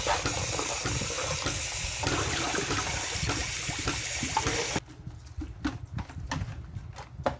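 Running cold tap water gushes steadily for several seconds over chicken being rinsed, then cuts off, leaving scattered wet handling knocks and drips nearby.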